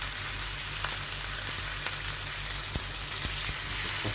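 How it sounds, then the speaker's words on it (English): Steady, loud sizzling of burger patties frying in hot oil, a dense crackling hiss with occasional sharper pops, no talking. "we are going to start frying them now"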